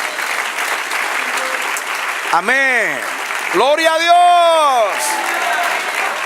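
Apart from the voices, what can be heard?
applause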